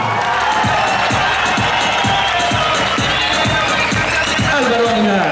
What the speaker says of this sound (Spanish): Fuerte aplauso para Jaguar Chuba de Charco.